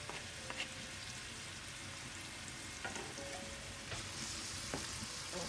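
Hot peppers, red and yellow bell peppers and scallion cook in a pan with a steady, faint sizzle and a few light scrapes and taps.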